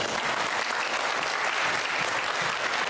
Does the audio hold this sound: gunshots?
no